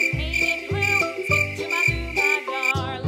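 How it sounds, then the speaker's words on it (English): A cricket chirps in steady, rapid trills with a bright, sustained high tone, repeating in regular pulses about every half second, loud and close, over a low throbbing rhythmic backing, with no talking. "Cricket."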